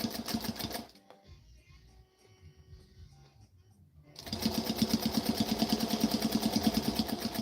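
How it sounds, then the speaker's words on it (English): A sewing machine runs a 5/8 inch seam with a fast, rhythmic chatter of needle strokes, drops to near quiet for a few seconds, then resumes stitching louder and steadier. "Sewing a 5/8 inch seam."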